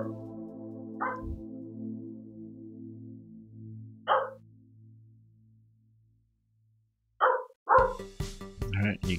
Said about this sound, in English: Dog wants to bark at everything.